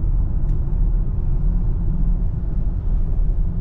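Steady low boxer engine rumble from inside a 2023 Subaru Ascent Touring accelerating, RPMs building, holding a droning tone throughout with no speech.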